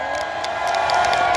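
Crowd at a rural Korean farm produce festival concert in Uiryeong cheering and shouting loudly, a sustained roar of many voices with whoops, close and dense throughout.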